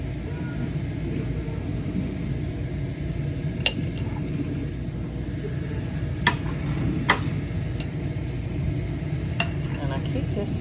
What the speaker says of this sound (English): let them cook a minute on this side.